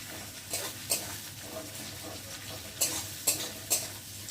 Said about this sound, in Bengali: পেঁয়াজটা একটু ভালো করে লাল করে ভেজে নেব।